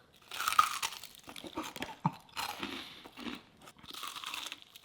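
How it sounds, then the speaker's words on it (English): Crunchy deep-fried chicken coating being bitten and chewed up close, with repeated crisp crackling crunches in bursts over several seconds and no talking. "The crunch of the coating, you can taste the coating."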